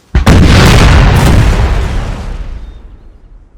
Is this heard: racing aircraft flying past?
no